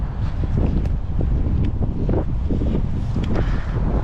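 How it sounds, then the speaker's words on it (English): Strong seaside wind on an island buffets the microphone with a constant loud rumble and gusty roar, no voices heard. "It's definitely windier on this side."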